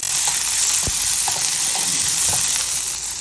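Sliced sambar onions sautéing in hot oil in a pan for vengaya rasam, giving a loud, continuous sizzle and hiss with a few soft stirring clicks.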